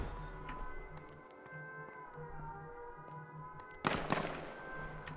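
A single sharp, fairly loud sniper rifle shot cracks out in the Z1 Battle Royale video game, standing out against a steady low in-game background hum.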